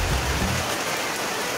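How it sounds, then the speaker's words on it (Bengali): Heavy rain pouring down in a steady, loud hiss and roar that covers the whole short stretch without any voices. "এখন বৃষ্টিটা হলো গিয়া কঠিন বৃষ্টি।"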